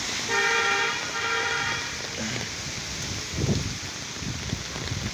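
Traffic moving along a wet road in heavy rain during a cyclone in Bangladesh, with a steady wash of tyre and rain noise, a drawn-out toot of a vehicle horn early on and a louder pass near the middle.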